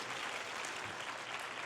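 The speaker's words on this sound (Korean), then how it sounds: "박수 한번 칠까요?" A church youth retreat crowd claps together during an evening worship gathering, a brief, even burst of many hands applauding at low volume.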